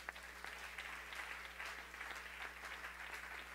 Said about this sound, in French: est-ce qu'on peut acclamer très bien pour le Seigneur?